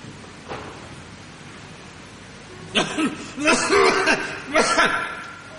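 A few short, harsh coughs in quick succession, fairly close, over a quiet room hum.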